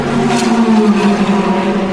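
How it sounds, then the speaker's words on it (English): Race cars drive during a long endurance race, their engines a steady, loud, droning roar with a faint rise in pitch as they pass, heard from a distance without any talking. "I think we'll just sit here and listen to these cars for a few minutes"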